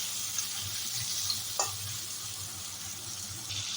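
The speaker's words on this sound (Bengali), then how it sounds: "আমরা পটলটা ভালো করে ভেজে নিয়ে একটুখানি নুন আর হলুদ দিয়ে দেবো" Pointed gourd frying in a pan with salt and turmeric sizzles steadily and close up, with a couple of brief stirring scrapes and clinks.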